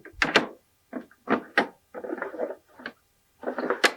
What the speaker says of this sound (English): And these have drawers that pull out.